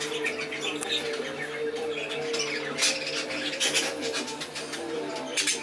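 Exhibition budgerigars in breeding pairs chatter and squawk together in a busy aviary, a dense mix of close chirps, warbles and sharp squawks running continuously.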